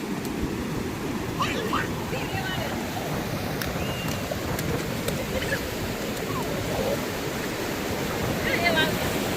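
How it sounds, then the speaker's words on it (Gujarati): Sea waves wash continuously onto a beach, a broad, even roar with some wind noise on the microphone. Voices talk faintly in the background. "આગળ મોટું મોજું આવે"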